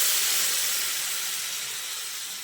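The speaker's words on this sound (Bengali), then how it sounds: "এবার আমি এর মধ্যে দিয়ে দিচ্ছি গরম জল।" Hot water poured into a sizzling pan of spiced potato and soybean curry, a loud close steam hiss that starts strong and slowly fades over a couple of seconds.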